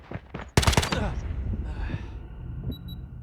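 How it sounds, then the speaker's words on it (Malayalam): Shotgun blasts in the Call of Duty Mobile video game: a couple of small shots, then a loud burst of rapid close reports that fades into game noise, with a faint voice under it. "ഷോട്ട് ഗൺ ആയിരുന്നു."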